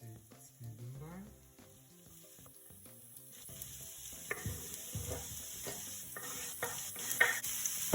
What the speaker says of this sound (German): So, jetzt fügen wir mal die Zwiebeln rein